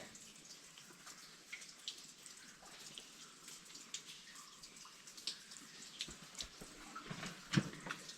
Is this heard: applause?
no